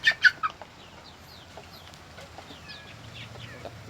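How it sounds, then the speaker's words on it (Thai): Turkeys and turkey chicks on a rural Thai farm give a few quick, sharp calls at the start, then scattered faint chirps and clucks over a quiet background. "ไก่งวงตัวเล็กครับผม นี่เป็นลูกเขาครับ"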